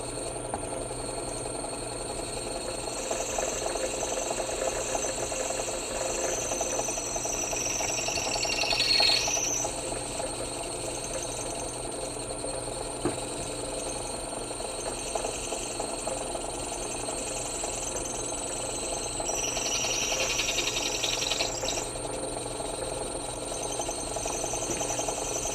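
A steady, quiet mechanical whine of a drill boring into a hard ferrocerium rod, with two brief sharper scraping bursts partway through and no talking.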